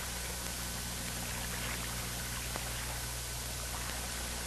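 Clear water pours and trickles steadily to wash out the barrel of an M16A1 rifle, a faint, even hiss of flowing water under a low hum, with no speech.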